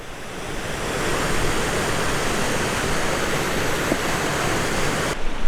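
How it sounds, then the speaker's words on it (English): A tributary stream rushes into the Medicine Tent River in the mountains, a close, loud and steady broadband roar of flowing water with no voices. "This is a tributary stream coming down into the Medicine Tent River."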